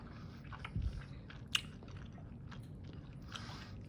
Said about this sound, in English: I apologize to our viewers if my chewing is coming through the video